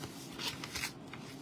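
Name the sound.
opening a paper envelope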